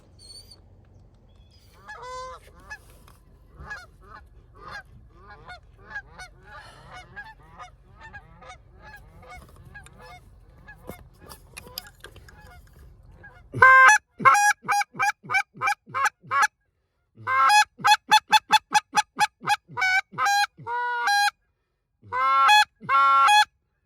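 Geese honk in a noisy, rapid string during a hunt, faint and scattered at first, then loud and close in repeated bursts of harsh calls.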